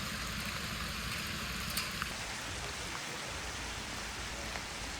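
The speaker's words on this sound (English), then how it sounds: "it started to rain pretty hard" Heavy rain pours steadily during a bike trip in the Netherlands, a dense continuous hiss of drops falling on surfaces, faint and even throughout with no voices.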